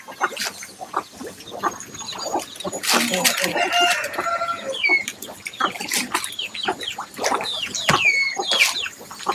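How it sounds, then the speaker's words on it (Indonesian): Chickens feed on fish pellets, with hens clucking busily and a rooster crowing close by, plus scattered pecking and rustling throughout. "selain dikasih ke ikan, ayam juga makan juga tuh"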